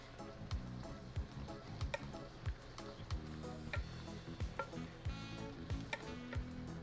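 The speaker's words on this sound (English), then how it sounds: "So just to make this one saute it down" Seasoning sautéing in a pan for a Caribbean-style shepherd's pie gives off a steady, close sizzle, broken by regular scraping strokes and ticks from the stirring utensil.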